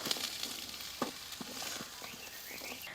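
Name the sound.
chopped onions frying in a pan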